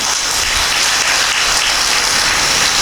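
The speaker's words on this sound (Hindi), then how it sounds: "फिर तो ताली बजाइए।" Audience applause at a spiritual self-improvement talk, a steady, dense wash of many hands clapping at an even loudness throughout, with no voices over it.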